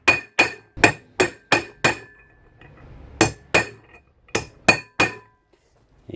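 Sharp metallic hammer strikes tapping a wheel bearing into place on an MK3 Golf, six in a quick series, a pause, then two more and three more, each ringing briefly with a bright, high tone.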